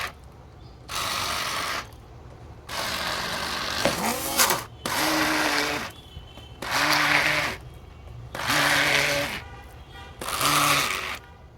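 A kitchen blender whirs in about six short pulses, each a loud burst of a second or two separated by brief pauses, with no talk over it.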